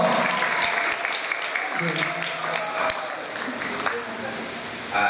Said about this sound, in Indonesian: Tepuk tangan untuk Anda Al-Haqqa